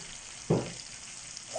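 Vegetable couscous stew stirred in a pot, a single short scrape and bump of the spoon over a faint steady simmering hiss.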